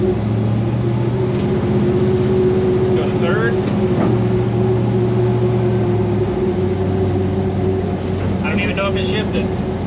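A 1968 Plymouth Satellite engine drones steadily and loudly under acceleration, its pitch stepping down as it shifts into third gear; a person talks over the engine noise.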